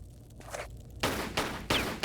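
Gunfire in a Tomb Raider custom level as shots are fired at a scorpion, three sharp bursts in quick succession after a quieter opening, close and loud.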